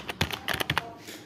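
Someone types on a computer keyboard in a quick, irregular burst of close key clicks over about a second, then it goes quiet, with no talk.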